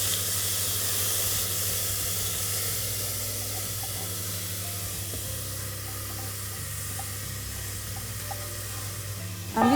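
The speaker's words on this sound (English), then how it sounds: "So now that the cumin seeds are sputtering, Yeah. we put the rice in." Cumin seeds and rice in hot oil for jeera rice make a constant, even frying hiss close by, with a few faint crackles and a brief clatter at the very end.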